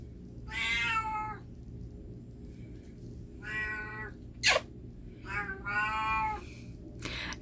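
A cat meows loudly into its water dish, three drawn-out cries with a hollow, echoing tone over a low background hum, with a short sharp click in between.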